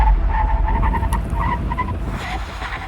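A ZEEKR X electric car, close to 2 tonnes, brakes at full force from 100 km/h, giving a loud, steady rumbling tire roar with faint squeal over about three seconds, no voices.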